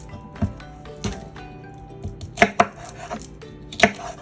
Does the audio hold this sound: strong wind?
no